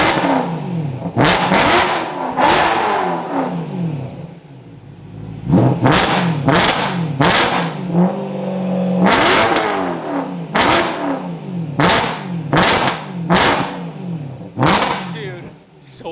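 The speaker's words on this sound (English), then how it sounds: "dual X pipes, it's got 4 resonators, and it's got a fake looking muffler on it." A car engine with a custom exhaust of dual X pipes and four resonators revs repeatedly, sharp roaring blips rising and falling close by, with people talking in between.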